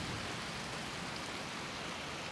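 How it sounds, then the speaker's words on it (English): Heavy rain pours down outside a welding shop, a dense, steady hiss that stays even and unbroken from start to finish with no voices. "It is just downpouring out there."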